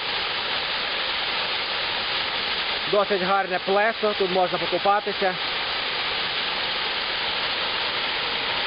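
Water rushes in a steady, loud roar at the foot of the Rushir waterfall, with the noise filling the whole clip; someone speaks briefly in the middle over it.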